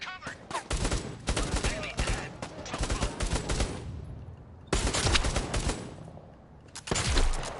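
Enemy shotgun fire in the co-op VR shooter Bravo Team, dense volleys of loud blasts in rapid bursts with short gaps, a voice talking briefly among them.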